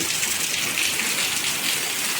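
Heavy morning rain pours down outside in a dense, continuous, hissing wash that stays loud and even throughout, with no talk.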